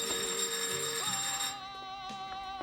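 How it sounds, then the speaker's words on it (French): An electronic phone ring trills in repeated tonal bursts, fairly clear and mid-level, pausing briefly before ringing again. "Première sonnerie."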